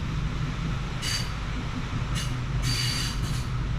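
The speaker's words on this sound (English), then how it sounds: "That might be a maintenance vehicle." A rail maintenance vehicle rolls along a railroad track beside a riverbed, a steady rumble with several bursts of bright metallic wheel squeal and clatter, fairly close and loud, with no voices.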